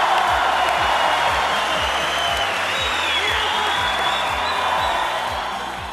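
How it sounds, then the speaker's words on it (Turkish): Steady audience applause at a Turkish televised talent show stage, dense and continuous for several seconds before tapering slightly at the end, with a regular low thumping beat running underneath. "Arkadaşlar şimdi de bir alkışla tanem için."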